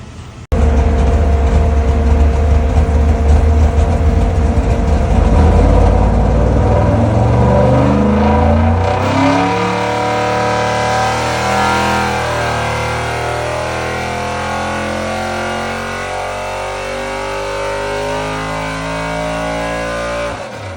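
A Jon Kaase Boss 9 engine running on a dyno, roaring loudly as it revs hard and climbs in pitch, then settling into a sustained high-rpm howl that holds steady to the end.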